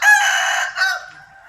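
A rooster in a rural village chicken coop crows once, loud and close, a single drawn-out call that fades over about a second and a half with no voices.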